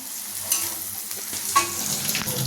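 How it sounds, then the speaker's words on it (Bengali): Sliced onion fries in hot oil as ginger-garlic paste and turmeric powder are added, giving a steady sizzle broken by a couple of louder stirring scrapes, close and without voices. "আদা রসুন যে পেস্টটা সেটা দিচ্ছে, তারপরে হলুদ গুঁড়ো দিচ্ছে, আর এখানে পেঁয়াজটা বেশ সুন্দর মতো ভাজা হয়ে গেছে"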